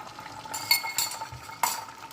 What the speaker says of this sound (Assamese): কণীটো অকণমান লৰাই ল'ম।